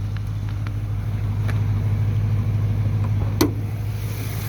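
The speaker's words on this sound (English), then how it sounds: "Let's get under the hood and let's listen to this engine" A 5.7-liter Hemi V8 in a 2013 Dodge Charger R/T with a rebuilt motor and Flowmaster exhaust idles steadily and close by, a constant low hum with one brief knock near the end and no voices.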